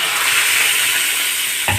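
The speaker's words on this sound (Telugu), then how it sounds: "తాలింపు చేసుకుంటున్నానండి." A spice tempering sizzles in hot oil for pepper rasam, a loud, steady, close frying hiss with a small stir or drop near the end.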